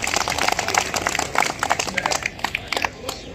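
A crowd at a rally in Jantar Mantar claps vigorously, dense overlapping hand claps in a steady, loud patter that thins slightly toward the end.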